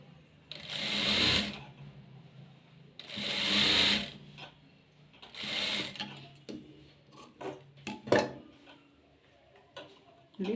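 A sewing machine stitching a folded strip of blouse fabric runs in three sustained bursts, followed by short mechanical clicks and taps, close and fairly loud with no talk.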